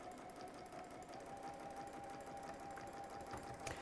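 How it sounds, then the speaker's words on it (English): Sewing machine stitching a quilt block along a diagonal line, a steady continuous whir with a faint high whine running through the whole stretch, moderately quiet with no talk. "So you sew on the one through the diagonal."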